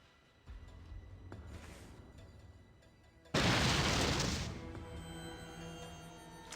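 Planted dynamite detonating in the video game Fallout 2, a single loud, full-bodied blast that bursts in suddenly and rumbles away over a second or so, with quieter game ambience before and after.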